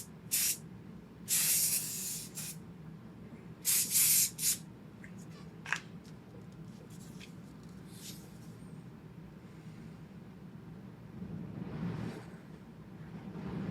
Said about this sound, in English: This is my first ever like aerosol setting spray.